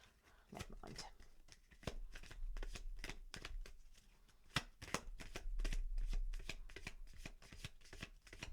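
A new deck of small tarot cards is shuffled again and again in rapid crisp riffles, close and fairly quiet, with a person talking now and then.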